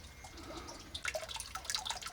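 Spring water running out from under a large sandstone rock at the Wat Phou Khmer temple, a close, steady babble of drips and splashes with no voices.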